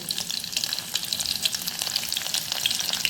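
Crushed garlic fries in oil on a low flame, giving a dense, close crackle and sizzle with rapid popping that runs without a break for a few seconds, with no voices.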